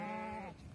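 A sheep lets out a single short, faint bleat, half a second long, alone with nothing else heard.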